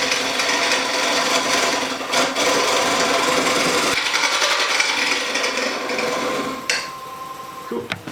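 A wood lathe rough-turning a redwood bowl past a knot, the gouge rasping and scraping steadily and loudly for several seconds before easing off near the end.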